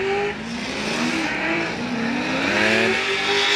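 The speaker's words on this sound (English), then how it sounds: "You can hear the car hitting the rumble strips." A Formula Drift Pro 2 car slides through a corner at Atlanta, engine revving hard with screeching tires and a rapid rattling buzz as it runs over rumble strips, loud and continuous, with no voices.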